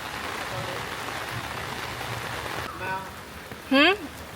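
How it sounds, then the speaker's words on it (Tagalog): Steady rain falls throughout as a soft, even hiss, with a voice briefly breaking in near the end. "It's raining."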